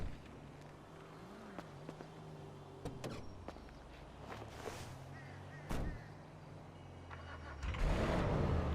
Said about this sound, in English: Let's get that start up again.